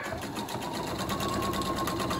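Sewing machine joining quilt pieces with a quarter-inch seam, a steady close whirring hum with no pauses.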